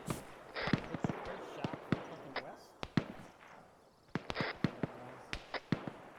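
An autocannon fires in the military game ArmA 3 as a string of sharp, spaced single reports, some loud and others farther off, over a steady background with radio chatter.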